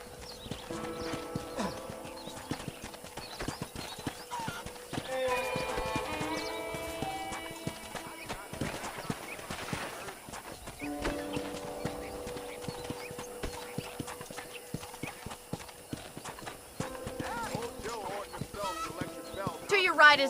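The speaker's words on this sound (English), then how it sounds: "let's see if you can still ride a horse" A horse ridden at a steady clip-clop pace in the Red Dead Redemption video game, with hoofbeats and an occasional whinny under soft music while characters talk.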